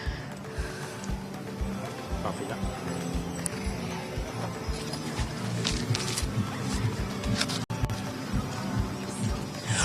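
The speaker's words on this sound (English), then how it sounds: "Roy and Marge Hinckley, of course, with their passion for the heavy horses, their Clydesdales and these vehicles" Clydesdale heavy horses pull a show vehicle in a champion turnout class at an agricultural show, their hooves clip-clopping in a steady rhythm on the ground, with a brief snort and crowd murmur in the background.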